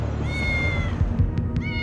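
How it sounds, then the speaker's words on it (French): Cat meowing close by, a drawn-out tonal meow followed by a couple of shorter rising mews, clear and alone over a low background hum. "Nous avons entendu un chat miauler"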